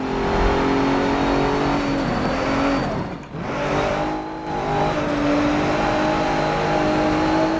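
Race car engine in Forza Motorsport 7 on a coastal cliffside track, a loud sustained roar with rising and falling revs, briefly dipping mid-clip before climbing again, with game music tones underneath.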